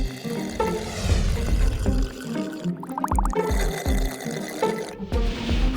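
Fresh water pours and splashes in irregular bursts of gurgling and trickling, close and fairly loud, with brief pauses between the streams.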